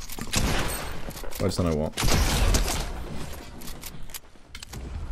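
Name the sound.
gunfire in Fortnite video game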